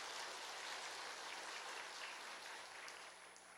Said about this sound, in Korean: 우리 또 청가들을 축하하는 마음으로 박수